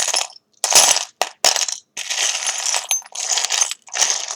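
Small metal charms for a charm reading are dropped and scattered in several bright jingling clusters, each a short tumble of clinking pieces separated by brief silences, close and fairly loud.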